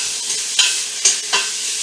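Beef pieces searing in a hot pan for an English beef and ale stew, a steady close sizzle with three brief louder flares of spitting or stirring.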